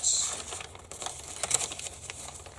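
A pink paper envelope flap folded over and pressed down, with close crinkling and rustling paper sounds in short bursts.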